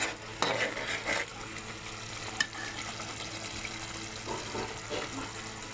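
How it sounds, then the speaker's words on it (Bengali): Spice masala for prawn and chicken biryani cooking down in oil in a pot, a soft, steady frying hiss with scattered stirring scrapes and a few clinks, fairly quiet and close. "ঠিক এভাবে মশলাটা আপনাকে কষায় নিতে হবে"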